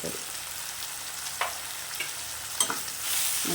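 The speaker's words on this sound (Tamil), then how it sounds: "இந்த எண்ணெயிலே வதக்கி விடுங்க" Egg curry masala, with chicken masala, coriander powder and chilli powder, frying and being stirred in hot oil in a pan: a steady close sizzle with a few sharper spatters and scraping stirs, no talking.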